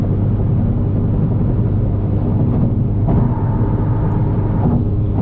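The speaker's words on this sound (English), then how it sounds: "I'm never getting tired of the turbo sound, ever." Turbocharged engine of a 10th gen Honda Civic Si, heard from inside the car as a steady loud low drone with a faint whistle rising over it, no voices.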